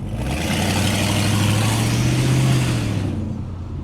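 A 22-year-old Lexus V8 car rumbles with a deep, steady exhaust drone, rising briefly as if revved and then settling and fading off, loud and near throughout.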